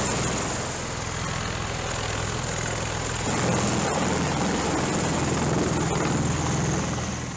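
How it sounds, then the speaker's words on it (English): MV-22B tiltrotor aircraft running on a US Navy carrier deck, a loud, steady, broadband rotor and engine roar that swells slightly midway and holds close throughout with no talk. "Specially trained deck crews handle the MV-22B during launch and recovery operations."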